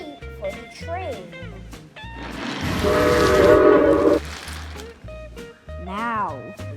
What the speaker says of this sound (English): Let's wait for the train.